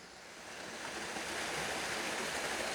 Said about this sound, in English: This place is just littered with water that falls.